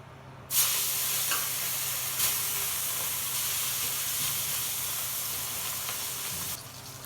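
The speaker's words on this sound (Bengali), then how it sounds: "মাছগুলো ভেজে নেব।" Tangra and taki fish fry in hot oil in a wok, giving a loud, steady sizzling hiss that starts abruptly and runs continuously, with a few sharper crackles, then cuts off near the end.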